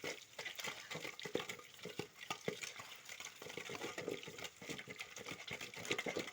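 Cooked keerai greens being mashed in a pot, a quick rhythmic series of soft wet squelching thuds and scrapes, close and fairly quiet, going on steadily.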